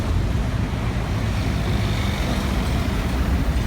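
Street traffic in Manila, Philippines, including jeepneys, forms a dense, steady roar of engines and tyres passing nearby, a continuous wash of road noise with no clear individual events and no talking.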